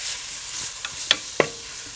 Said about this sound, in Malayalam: ഇത് നല്ലപോലെ ഒന്ന് മിക്സ് ചെയ്യാം